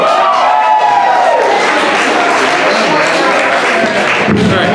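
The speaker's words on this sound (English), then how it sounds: "Give it up for Max Brockman." Loud, sustained audience applause and cheering for comedian Max Brockman at a live comedy contest, a dense wash of clapping and crowd roar filling the whole stretch without letup.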